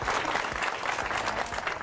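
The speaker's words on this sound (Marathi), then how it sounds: "टाळ्या वाजवून शुभेच्छा देऊया" Audience applause in a Marathi game show studio (Home Minister), dense clapping from a crowd, steady and fairly loud throughout the short stretch with no clear speech on top.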